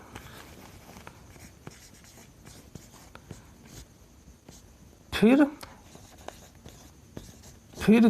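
Chalk or marker scratching on a board during a Hindi lesson, faint short strokes tapping and scraping at irregular intervals beneath a teacher's ongoing speech.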